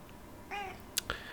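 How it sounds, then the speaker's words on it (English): A cat meows once in the background, a short wavering cry, followed by a couple of faint clicks and rustles. "Sorry about the cat."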